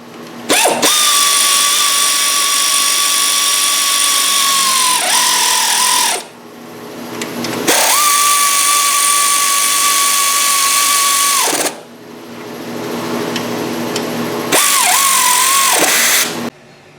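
Power tool torquing the lower ball joint bolts on an LS-swapped Mazda B2200 truck, three long loud steady whining bursts with short pauses between, each ending in a brief pitch dip as the bolt tightens; no talking.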